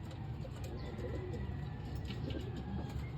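Racing pigeons coo inside a loft, their soft, low murmuring throbbing steadily under a faint background hum, with a few light taps and no clear speech.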